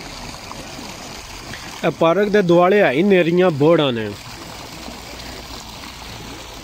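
Motor-driven fountain jets spray water in a park at Plaza de Enrique Granados in Valencia. They make a steady, soft splashing hiss, heard alone at first and then under someone talking in the middle.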